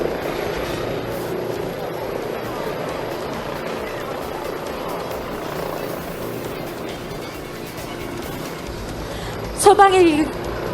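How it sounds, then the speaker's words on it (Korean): An AW169 firefighting helicopter, built by Leonardo, lifts off from a rooftop rescue during a disaster drill in Dalseong, Daegu, its steady rotor and engine roar continuous and fairly loud throughout, with a brief sharp chirping burst near the end. "소방 헬기가 옥상 구조 대상자를 안전하게 구조해 헬리포트 착륙장에 있는 계명대학교 동산병원 인계를 위해 현장을 떠나려고 하고 있습니다."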